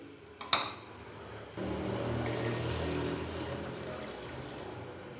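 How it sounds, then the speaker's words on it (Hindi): Water from about two glasses is poured into a pot of spice-fried beef for an onion beef curry: a brief clink, then a steady, hissing, splashing pour lasting a few seconds, close by, with no talking. "अभी मैं इसके अंदर डालूँगा पानी तकरीबन 2 गिलास के करीब।"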